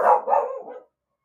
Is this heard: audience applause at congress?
no